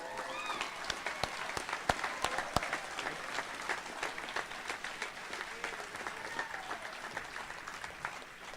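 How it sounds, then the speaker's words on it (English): Audience at a Northwest Lineman College graduation bursts into sustained applause, dense crowd clapping with sharp individual claps standing out, steady and fairly loud throughout. "Another round of applause."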